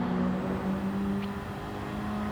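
A car oversteering on the Grand Valley track in Gran Turismo 7 produces a loud, sustained engine drone with a steady tonal whine that dips slightly midway, with no talk over it.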